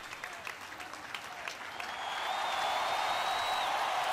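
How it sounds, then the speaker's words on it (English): Applause at a DCWF Full Tilt wrestling show as one wrestler acknowledges his opponent's effort, steady clapping that swells louder and denser after a couple of seconds, with a faint whistle riding over the crowd. "Xander applauding Drew's effort"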